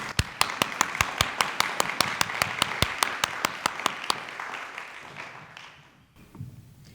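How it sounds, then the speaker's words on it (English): An audience gathered in a church applauds in unison, sharp rhythmic claps repeating at a quick steady pulse for about four seconds, then trailing off into near quiet. "So maybe we should give her an applause in absentia."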